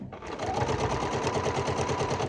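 A sewing machine stitching fabric for a mini charm bag, a close, steady rapid mechanical whirring with a regular pulsing rhythm that runs without pause.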